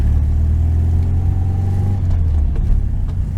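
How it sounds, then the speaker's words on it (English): A 1973 VW Super Beetle accelerating, its air-cooled engine giving a loud, steady low drone that rises in pitch, then drops and eases as the car shifts into third gear, heard from inside the car. "Let's get it into third gear."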